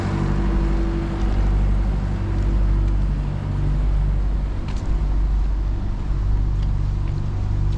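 A small car engine like a Fiesta's, complete with oil filter, runs a dynamo generator at an industrial estate in Belfast, giving a loud, steady, unbroken drone with a low rumbling hum throughout and no talk.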